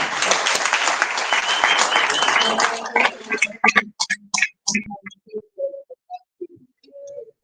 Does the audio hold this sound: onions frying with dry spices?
no